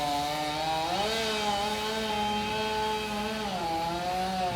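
A chainsaw cuts through a section of a large 120-foot tree, its engine droning loud and steady with pitch dips as the chain bites into the wood, with no voices over it.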